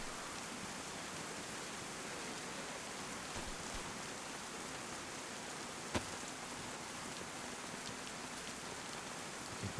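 Continuous broadband rain in the survival game DayZ, a dense, even hiss of drops on surfaces with occasional faint clicks and one sharp tap, no voices.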